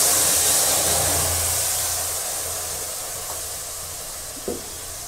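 Spices dropped into hot oil in a pan with bay leaf and cumin, giving a loud, steady hissing sizzle up close that slowly fades, with a small clink near the end.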